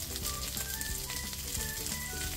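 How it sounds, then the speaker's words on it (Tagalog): Sliced potatoes and carrots fry in a pan, making a steady, close sizzle with soft crackles and occasional stirring noises throughout. "At sa kawali, pinirito ko na rin itong patatas at carrots na hiniwa ko kanina."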